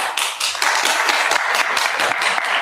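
Applause fills a city council meeting chamber, a moderate crowd clapping steadily for a couple of seconds with no voices over it.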